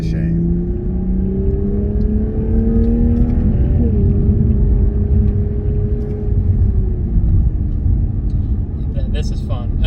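A 2022 Toyota Supra 3.0 driving at half throttle on curvy roads, a steady close engine drone rising in pitch, then dipping at a shift before settling into a low rumble.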